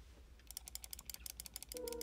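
A Logitech MX Mechanical keyboard types in a quick, irregular run of soft, quiet clicks, close and alone, with a brief tonal hum entering near the end.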